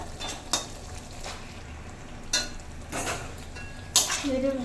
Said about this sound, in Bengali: নেড়ে চেড়ে নেবো ভালোভাবে।